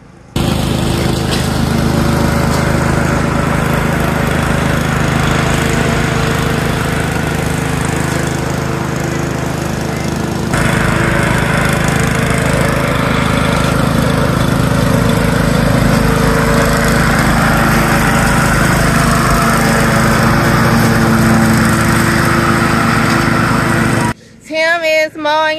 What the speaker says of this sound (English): Mowing in the background. He says he's mowing his lawn by faith.